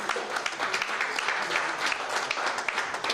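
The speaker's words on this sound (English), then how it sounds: "That clap is not enough for the CEO of the most important league, Mr. Emmanuel Atta." Audience at a Nigeria National League award ceremony claps steadily, a dense, continuous round of applause filling the room with no pauses.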